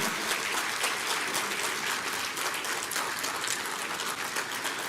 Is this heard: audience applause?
yes